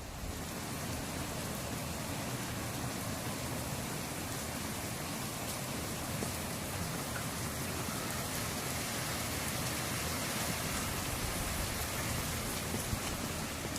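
Heavy rain pours steadily during a Northern California storm driven by strong wind bursts on a Friday night, a dense, constant hiss of downpour with no voices throughout.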